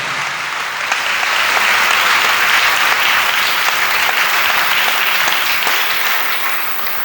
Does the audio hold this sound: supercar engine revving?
no